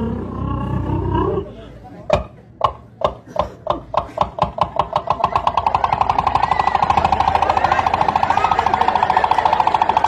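A voice imitates a posho maize mill. It opens with rough growling, then a rhythmic chugging that speeds up into a steady, loud, continuous mechanical drone.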